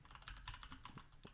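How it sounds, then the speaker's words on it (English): Rapid keystrokes on a computer keyboard clatter in an uneven burst of clicks, fairly close and steady, with no voices over them. "He's typing away over there."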